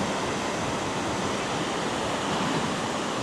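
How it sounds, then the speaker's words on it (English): A river flowing straight into the sea on the Basque coast, with waves breaking at the same time, makes a steady, dense wash of water noise that holds level and close throughout with no voices. "So we've got the river flowing down and the waves coming in at the same time."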